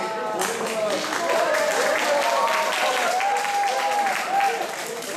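A crowd at a prayer meeting applauds in a steady, full wash of clapping that holds at an even level throughout, while a voice talks over the top.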